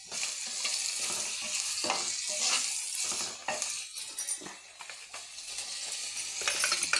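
Onions frying in oil in a pan, cooked until deep red-brown: a steady close sizzle with occasional stirring scrapes and light utensil clinks, no talking.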